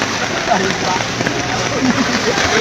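Steady heavy rain falls over a flooded residential area where the river has overflowed, a loud constant wash of noise with a person talking over it.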